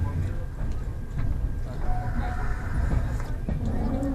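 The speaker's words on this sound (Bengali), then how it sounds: "উত্তরপ্রদেশের উপর দিয়ে এই মুহূর্তে আমাদের ট্রেন চলেছে" Inside a passenger train running through Uttar Pradesh on the Kolkata to Jammu route, a low, continuous rumble of the moving carriage fills the space, with faint knocks and background voices throughout.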